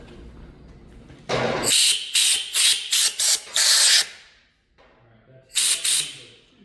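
Aerosol spray hissing in bursts: one longer blast, then a quick run of short sharp sprays, a pause, and two more close, loud bursts.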